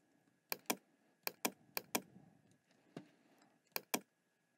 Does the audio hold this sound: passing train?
no